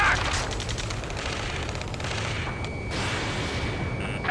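Sustained automatic gunfire and explosive combat noise from the Ace Combat 7 video game, a dense, loud continuous barrage of rapid shots with booms and a brief tonal whine, no speech.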